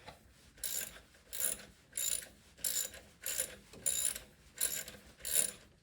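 A hand ratchet turns a stubborn alternator bolt on a 2009-2013 Toyota Corolla, clicking in eight even bursts about every 0.6 seconds, close-up and fairly quiet with no talk.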